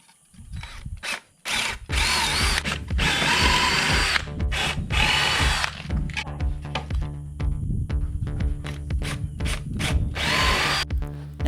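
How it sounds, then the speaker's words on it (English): A power drill bores holes into the back of a wooden floating shelf, its motor whining in long sustained runs broken by brief pauses, close and loud with grinding bit noise. "Then I'll drill 2 holes on the back side of that shelf where my marks are."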